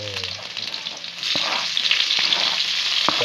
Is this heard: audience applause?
no